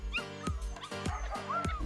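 Several dogs at a breeding kennel bark in a quick, steady rhythm of close, loud yelps, with whimpering and whining threaded between the barks.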